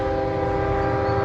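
Train M217 passes at Crofton, a loud, steady rumble with sustained tonal horn-like hum holding throughout at close range, no voices.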